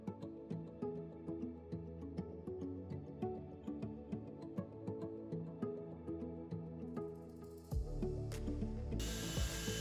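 Rapid metallic clicking of a ratchet tightening bolts on a fibreglass front splitter for a Ford Fiesta ST150, close and steady in quick bursts, with a brief louder clatter near the end.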